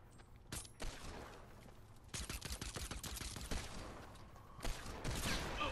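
Video game gunfire from a hand cannon, a burst of sharp shots followed by more scattered cracks over steady background game noise, with no talk.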